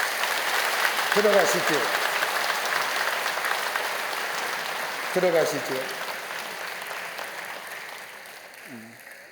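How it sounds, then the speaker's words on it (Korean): A church congregation claps warmly at a Sunday service to welcome newly baptized infants, with steady applause filling the room while a voice speaks briefly over it a few times. "여러분들은 큰 박수로 환영하시기를 바랍니다."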